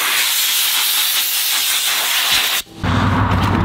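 Compressed air hisses hard and steady, blowing dust off the air filter element of an Exmark Metro 48-inch mower. The loud, close blast runs for about two and a half seconds, cuts out briefly, then gives way to a rougher, lower rush.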